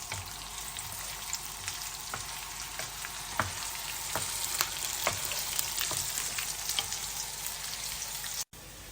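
Onions frying in melted ghee for an Arabian chicken mandi biryani, a steady close sizzle with crackling pops and the occasional scrape of a whisk stirring through the pan.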